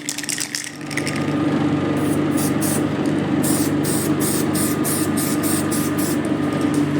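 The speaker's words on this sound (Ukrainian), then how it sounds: "Оцей спеціально зроблений притір до метала грунтуємо із балончика епоксидником" Epoxy primer hisses from an aerosol can onto bare metal in a steady, loud, continuous spray that starts after a brief lead-in and runs unbroken to the end, with no voices.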